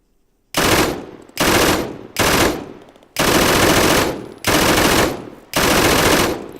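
Loud sustained bursts of automatic fire from a NiArms mod machine gun in a video game, six long volleys separated by short gaps, close and dominant with no talk.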